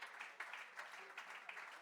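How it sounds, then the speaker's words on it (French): A short burst of audience applause at a startup pitch event, soft and distant, with scattered claps rising and falling over under two seconds. "vous pouvez continuer de les applaudir très fort pour nos nouvelles pépites"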